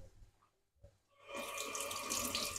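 Water runs from a kitchen tap in a steady stream, added to a pot of beans during cooking; the flow starts after a quiet moment and continues close and fairly loud.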